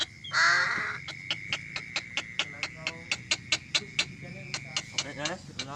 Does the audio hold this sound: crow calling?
yes